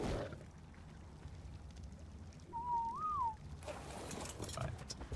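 A single rising-and-falling whistle in the video game Ark Survival Evolved calls a Thylacoleo, heard clearly over a soft, hissy ambient game background.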